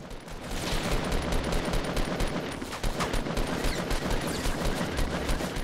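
Rapid bursts of gunfire from the Fortnite video game, dense and continuous, with overlapping shots and a steady high level of loud firing throughout.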